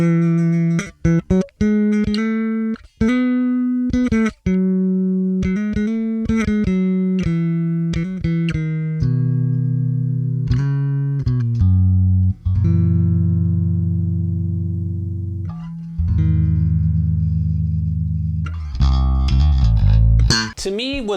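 A Schecter bass guitar played with both bass and treble knobs boosted, giving a loud, full run of plucked notes with some slapped or popped attacks and a busier, brighter passage near the end, heard alone without talk.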